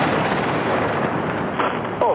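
Heavy bombardment during the Iraq war, very large bombs exploding in a dense, rumbling roar with sharper blasts breaking through toward the end.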